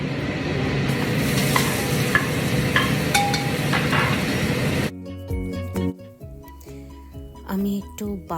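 Onions fry in butter and oil with garam masala, giving a close, steady sizzle and stirring with light clinks for about five seconds, after which it drops away and a voice takes over.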